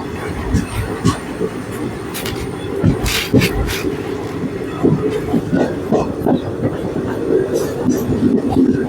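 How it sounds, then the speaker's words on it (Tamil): A Kollam Junction to Visakhapatnam weekly express hauled by a WAP-7 electric locomotive rushes past a platform at speed, giving a loud, continuous rumble of wheels with sharp clattering bursts and rattling carriages throughout. "கொல்லம் ஜங்ஷன்லேருந்து விசாகப்பட்டினம் வரையும் ரன் ஆகக்கூடிய விசாகப்பட்டினம் வீக்லி எக்ஸ்பிரஸ்ங்க"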